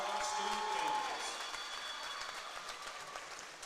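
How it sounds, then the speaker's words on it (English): Applause from a homecoming ceremony crowd greeting the student candidates for the 2024 Homecoming Court, a steady wash of clapping that starts strong and slowly eases over several seconds, with some talk mixed in. "Applause for all of our student candidates."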